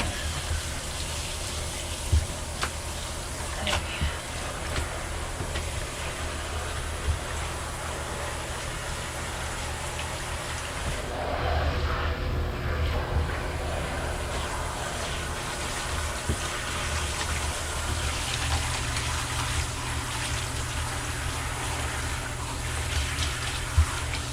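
Steady running water gushes continuously while a tie-dyed queen flat sheet is rinsed, loud and close throughout, with a few faint knocks and splashes and no talking.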